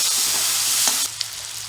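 Potatoes are stirred in a hot pan: a loud, bright sizzle hisses for about a second, then drops away, leaving a quieter hiss with a single scrape of the spoon.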